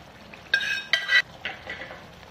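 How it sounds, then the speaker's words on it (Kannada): Boiled mutton pieces go into a pan of masala for a mutton gravy, giving a few clattering, scraping bursts of metal against the pan, close and moderately loud, with no talking. "ಈಗ ಬಾಯ್ಲ್ ಮಾಡಿದ ಮಟನ್ ಹಾಕೋಣ"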